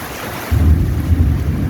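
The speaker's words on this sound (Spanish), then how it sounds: "Llueve, allá llueve, viene más duro el agua" A heavy downpour in Tocoa with a low rumble of thunder rolling in over the steady hiss of rain, close and loud.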